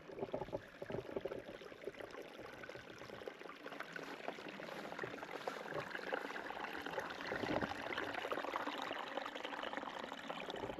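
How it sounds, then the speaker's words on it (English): Spring water running and spilling along a backpacking trail on the Highline Trail, a steady broadband rush and trickle of falling water that swells slightly partway through, with no talking. "you can hear water falling through"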